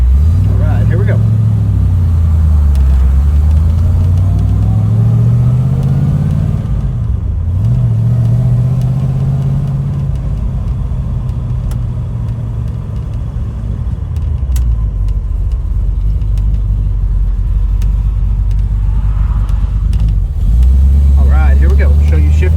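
A 1967 Chevrolet Camaro RS SS engine accelerates hard and shifts through the gears, its loud rumble rising and dropping with each shift, up close and continuous throughout, with speech faintly present.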